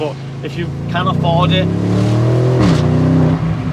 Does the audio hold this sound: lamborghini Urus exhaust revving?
yes